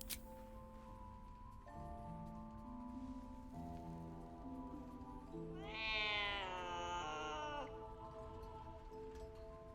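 A cat meows once in the video game Baldur's Gate 3, a drawn-out, wavering cry heard clearly above soft game ambience and a background music drone.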